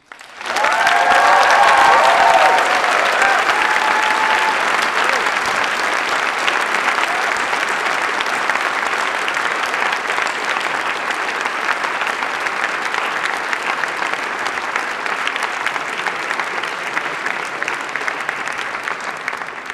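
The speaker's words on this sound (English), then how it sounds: "we sure deserve a round of applause for it" A large audience applauds at a university graduation ceremony, a loud, even roar of clapping that rises sharply and sustains for nearly twenty seconds with little change.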